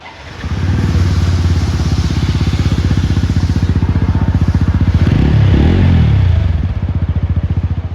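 A TVS motorcycle engine with a double-barrel silencer idles with a steady, throaty thumping exhaust, revving up briefly in the middle before settling back to idle.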